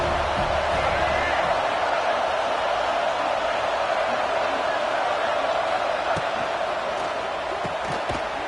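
A stadium crowd at a football game roars continuously as the home fans try to keep the opponents pinned deep in their own end, making a dense, sustained wash of cheering with a few sharp bangs near the end.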